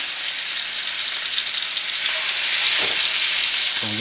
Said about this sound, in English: So we got to brown this up.